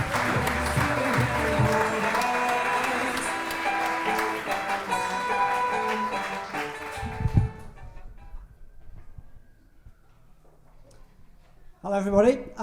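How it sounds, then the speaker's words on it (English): A comedy showcase crowd claps and cheers as comedian Guy Buckland is introduced, loud sustained applause with music that fades out, then a quieter stretch before a brief burst of sound at the end. "Put your hands together and make some noise for Guy Buckland"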